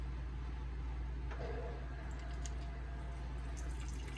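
Steady running hot water from a tap, with faint dripping and splashing as a measuring cup fills, over a low constant hum.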